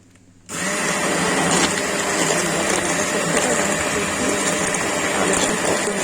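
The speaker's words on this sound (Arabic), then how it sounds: "وابدا اضرب دول في الخلاط او بالهاند بلندر المتوفر عندك" A hand blender purees fried onions with lentil soup, its loud steady motor whirring without a break after a quiet start.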